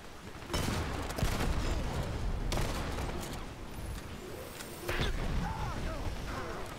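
Airstrike explosions from Dirty Bomb, the online shooter, hit in heavy crashing bursts with a rapid fusillade of gunfire and rubble impacts, loud and close, two big surges a few seconds apart under ongoing battle noise.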